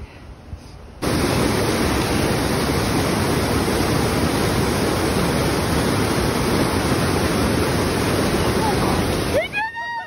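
Loud, constant roar of rushing water fills the scene after a quieter start, with a brief voice-like sound near the end.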